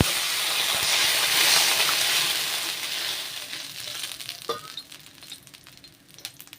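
Water poured into hot oil for a raw mango chutney hisses and sizzles loudly at first, then dies down into softer crackles and pops close by.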